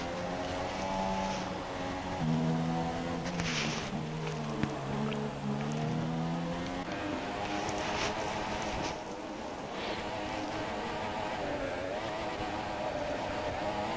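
A Formula 1 racing car in the F1 2017 video game, at Monaco, over-revs with a sustained, wavering high engine whine that rises and falls, with commentary talk underneath.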